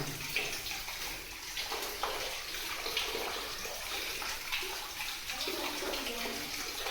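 Steady rushing water pours continuously from a 350-foot borewell, a broad hissing gush with faint splashing throughout.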